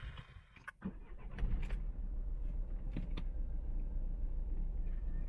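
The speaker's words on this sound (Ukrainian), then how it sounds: "І от зараз е, попробую завести машину." Citroën C4 2.0 TDI diesel car engine cranks with a few clicks and thumps, then catches and settles into a steady low idle rumble, heard close with no talking.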